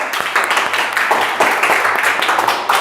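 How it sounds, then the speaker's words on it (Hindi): Classroom of students clapping together for the day's winner, a dense burst of quick overlapping claps held steady and close throughout. "तालियां एक बार।"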